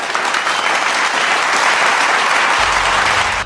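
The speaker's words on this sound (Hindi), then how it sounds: "पूरा सभागार तालियों की गड़गड़ाहट से गूंज उठा" A packed hall audience bursts into thunderous applause after Swami Vivekananda's speech, dense, sustained clapping from many hands that stays loud and even throughout.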